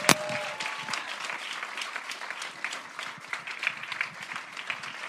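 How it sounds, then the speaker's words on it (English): Audience applause for the Boston University ensemble at an oil-themed conference, many hands clapping in a brisk, moderately loud patter that holds steady throughout after a sharp opening clap. "please, a big applause for Boston University, who was here for us today"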